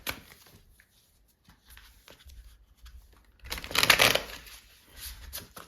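Tarot cards handled and drawn for a three-card reading: soft rustles and slides, then a louder burst of shuffling and riffling near the end, close and alone with no voice.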